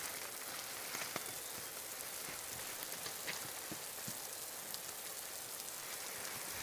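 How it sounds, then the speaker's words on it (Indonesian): Heavy rain falling steadily on a mountain trail, a dense, even hiss of drops with occasional sharper splatters, close and unbroken, no voices. "Kita tidak bisa memaksakan perjalanan di saat hujan deras"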